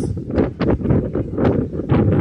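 Outdoor wind on a lawn buffeting the microphone in loud, low rumbling gusts that swell and fade, close and steady, with no one speaking.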